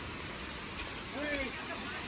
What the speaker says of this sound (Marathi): तर आता हे दुसऱ्या धबधब्या खाली आलो आम्ही